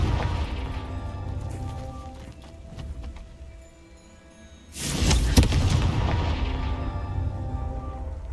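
A Confringo fire spell blasts in Hogwarts Legacy, a sudden loud booming burst at about five seconds that lingers as a roaring rumble over quieter game ambience.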